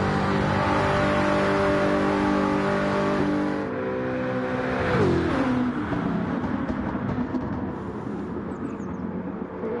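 Racing game engine of a Toyota Supra at high revs, a loud sustained harmonic drone that drops in pitch midway as it shifts or backs off, then climbs again, continuous throughout with no talking.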